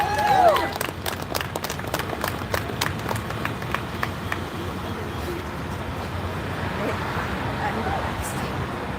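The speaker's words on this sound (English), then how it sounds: "So please give them a round of applause." Crowd applause at an outdoor community vigil in Detroit, scattered sharp claps at first that blur into a broad, windy wash of clapping and cheering, with no speech over it.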